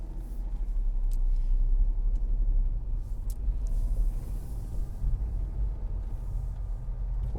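A Honda S660 cruises along a road in Wakayama, heard from inside as a steady, low engine and tire rumble that holds constant with no voices.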